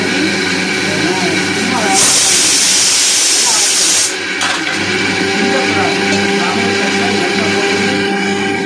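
A kitchen mixer grinder whirring as it grinds coconut and cumin, a loud steady motor drone with a harsher surge in the middle, and voices talking nearby.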